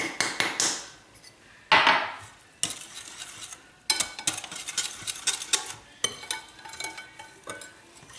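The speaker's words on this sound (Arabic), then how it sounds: "طبعا مع التحريك المستمر" Spoon scraping and stirring a dessert mixture in a pot with oil and starch, in bursts of swishing and clinking against the metal with short pauses between, close and clear, no talking.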